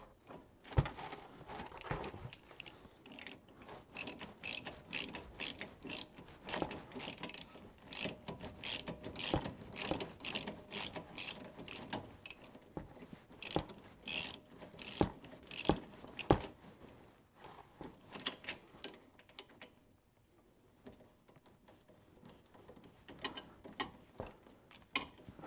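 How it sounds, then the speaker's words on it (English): A ratcheting box-end wrench tightens leaf spring bolts with rapid, close clicking bursts that come in repeated runs, loud and dry, before tapering off into quieter handling noises. "I sure like my ratcheting ratcheting box end wrenches"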